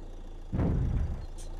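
A forklift engine in the video game Thief Simulator 2 gives a short rumbling burst as it turns on, then settles into a low, steady idle hum. A brief high chirp comes near the end.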